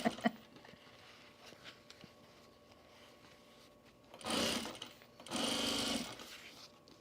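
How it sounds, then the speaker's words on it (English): A sewing machine stitches a boxy bag in two short bursts near the end, each running about a second, loud and close against a quiet room. "Susan, are you here sewing this with me?"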